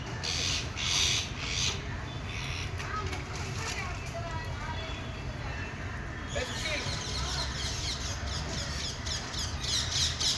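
Parrots squawking in a noisy outdoor crowd while a fire brigade team works to rescue a parrot stuck high up, with sharp calls repeating throughout over steady chatter and background commotion.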